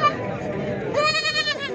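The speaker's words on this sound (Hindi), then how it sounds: "लेकिन पाकिस्तान की जो नंबर 1 ब्रीड होती है ना, वो ये बकरी आपको दिखा रहा हूँ" A goat at a goat market gives a near, nasal bleat partway through, over background murmur and other livestock noise.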